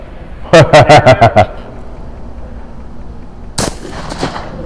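An experimental 12-gauge 'Bunker Buster' shotgun slug is fired once, a sharp, loud report arriving late, after a burst of excited voices.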